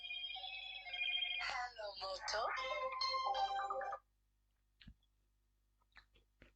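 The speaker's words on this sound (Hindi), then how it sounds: "फिर भी फोन आ रही है।" A harmonic electronic ringtone trills steadily for about four seconds, then cuts off, leaving near silence broken by a few faint clicks.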